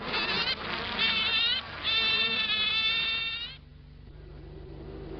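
A swarm of bees in a bucket gives off a dense, wavering buzz, loud and close for a few seconds before thinning to a softer, fainter hum.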